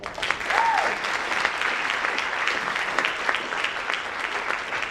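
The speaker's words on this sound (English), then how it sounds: "let's give them a round of applause" Audience applause at a school spring jazz concert, steady clapping from a crowd filling the room for several seconds, fairly loud and continuous with no talking over it.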